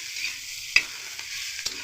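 Ginger and turmeric frying in oil for a paneer chana masala made without onion or garlic: a bright, steady sizzle up close, broken by a few sharp clicks of a utensil stirring the pan.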